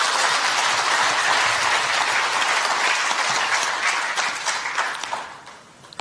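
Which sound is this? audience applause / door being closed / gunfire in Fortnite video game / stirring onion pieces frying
audience applause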